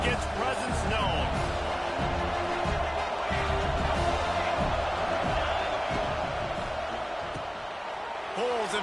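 Stadium crowd roars steadily in a college football video game against Colorado, a dense continuous wall of cheering with occasional whoops, while commentary voices talk over it throughout.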